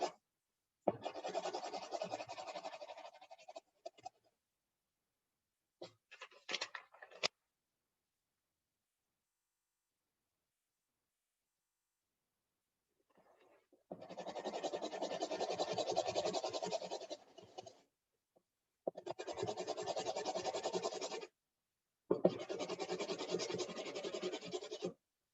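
A spoon is rubbed firmly over tracing paper to transfer pencil graphite, making quiet, dry scratching strokes in several separate bursts with silent pauses between them.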